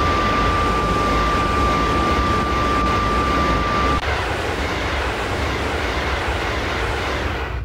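Loud, steady rumble of a passing cargo train in the Train Simulator game on a route toward Leipzig, a dense broadband roar that carries on without a break and eases slightly partway through.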